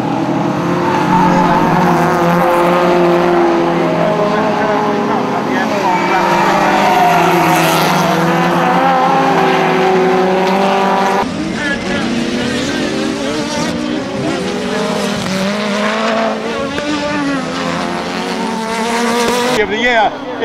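Race cars, including a Honda CRX, roar past on the Bushy Park circuit in a loud, sustained engine drone with shifting pitch as they accelerate and pass, continuous throughout.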